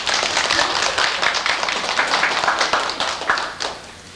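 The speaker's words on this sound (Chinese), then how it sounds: "请大家热烈鼓掌。" An audience at a welcome ceremony for visiting relatives in China claps warmly, dense applause sustained for several seconds before tapering off near the end.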